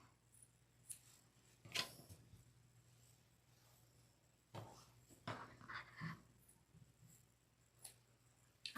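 Scissors trim the corners of a piece of craft material in a quiet room, with a few faint, separate snips and rustles spaced out across the recording.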